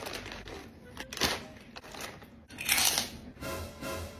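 Crunchy bites into a spicy fried squid snack, several sharp crackling crunches close to the mic in an uneven chewing rhythm, with a louder burst of crunching partway through and no talking.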